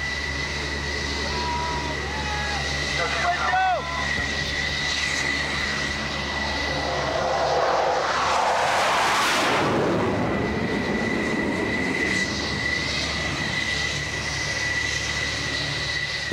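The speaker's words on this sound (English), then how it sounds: "The plane is waved off," An F-14 Tomcat jet on carrier landing approach and wave-off roars steadily with a continuous loud engine whine, swelling to a peak as it passes close overhead before receding.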